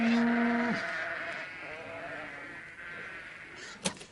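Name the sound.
farmyard animals, sheep bleating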